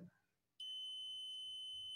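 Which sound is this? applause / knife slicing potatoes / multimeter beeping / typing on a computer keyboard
multimeter beeping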